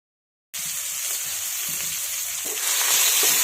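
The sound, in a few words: green chili, garlic and cumin sizzling while sautéing in oil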